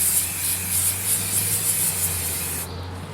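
A can of Krylon Easy Tack adhesive sprays in a steady, close hiss as it sweeps back and forth over a Cricut cutting mat, with a faint rhythmic pulse from the strokes, stopping shortly before the end.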